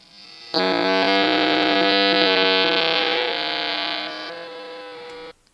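A fart sound digitally stretched into a long, droning buzz for a horror effect. It sets in abruptly, holds steady for several seconds with a harsh tonal quality, fades a little near the end, then cuts off.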